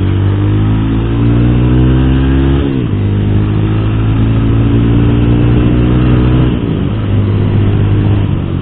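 A loud, close Honda Unicorn 160 motorcycle engine accelerating through gears in city traffic, pitch rising then dropping twice at gear changes as it rides off.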